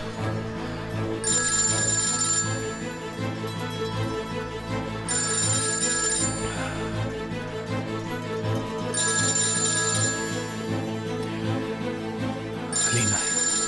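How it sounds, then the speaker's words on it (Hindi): A telephone rings in four evenly spaced bright bursts, each lasting about a second, in a dubbed Turkish drama scene, with dramatic background music playing beneath. "तुमसे कह रहा हूं फोन उठाओ।"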